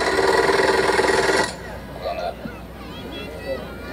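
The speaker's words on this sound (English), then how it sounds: "So this is pumping oil through the engine, building up the pressure, letting it cool down." A Land Rover engine cranks at a classic car concours, giving a rapid mechanical churning for about a second and a half, then it stops and quieter outdoor chatter and voices take over.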